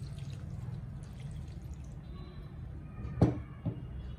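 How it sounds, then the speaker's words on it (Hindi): Half a litre of water is poured into a kadhai holding fresh rose petals for homemade rose syrup: a soft, steady low wash of pouring, then a couple of brief splashes near the end. "अभी हम इसमें 1/2 लीटर पानी डालेंगे।"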